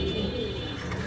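A pair of fancy frill pigeons coos softly and steadily over a dense, noisy background, with no clear talk over the calls.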